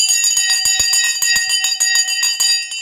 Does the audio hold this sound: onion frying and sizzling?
no